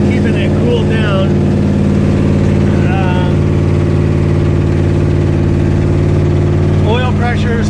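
A 1969 Corvette with a 427 V8 and four-speed idles after its first start-up, a loud, steady low rumble close by. Faint voices and squeaky sounds come through briefly near the start and end.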